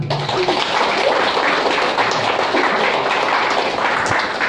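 Audience applause at a farewell ceremony for departing staff, a dense, steady wash of clapping from a crowd that fills the whole stretch without pause.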